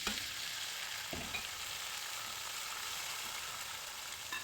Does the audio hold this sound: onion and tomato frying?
yes